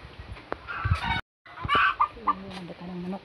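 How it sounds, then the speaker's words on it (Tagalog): Backyard chickens on a family plot cluck and call near the microphone in short irregular bursts, with a brief silent gap partway through. "Daghanang manok."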